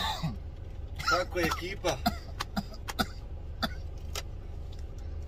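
A man coughs several times in short harsh bursts on a hot day outdoors, with a few scattered sharper coughs and throat sounds following, while someone speaks briefly over quiet background noise.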